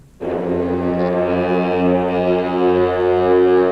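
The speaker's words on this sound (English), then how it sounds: "Anime, could you please sound the war horn, baby?" A war horn sounds alone: one deep, sustained, brassy blast that starts abruptly and holds loud and steady to the end.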